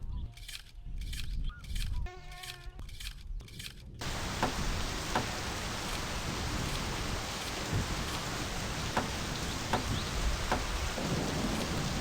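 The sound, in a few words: thunderstorm with rain in video game My Summer Car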